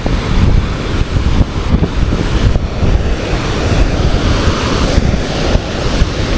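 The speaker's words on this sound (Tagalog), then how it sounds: "Sobrang lakas ng alon." Strong ocean waves surge and crash against the rocky shore at Polipol Beach, loud and continuous, with heavy wind buffeting the microphone.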